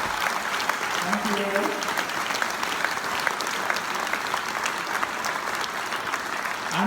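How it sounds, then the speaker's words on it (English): Steady applause from an audience at an entrepreneurs' event in London, clapping continuously throughout as a speaker's brief thanks rises over it. "Can we please give our 4 changemakers a massive round of applause for their sharing?"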